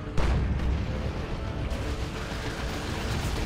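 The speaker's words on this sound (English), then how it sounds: "Looted tank getting shots off" Looted tank firing shots in the Dawn of War 2: Retribution strategy game, a steady dense rumble of booming artillery blasts with one sharper hit near the start, layered over continuous battle noise.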